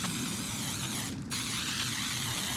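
Coating sprays onto a wooden privacy fence as a faint, steady airy hiss, with a brief dip partway through and no voices.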